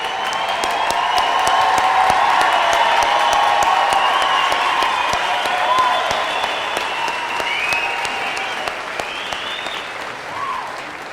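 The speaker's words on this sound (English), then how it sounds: "You can cheer louder, go ahead." Graduating crowd at an Adams State University spring commencement applauds and cheers loudly and steadily, a dense wash of clapping with scattered whoops that eases slightly toward the end.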